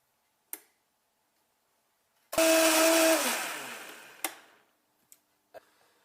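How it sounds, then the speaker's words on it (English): Countertop blender whirs up a green smoothie with coconut powder, starting abruptly, ramping in pitch, then winding down after about two seconds, followed by a few faint knocks and clicks in an otherwise quiet kitchen. "And we're ready to blend."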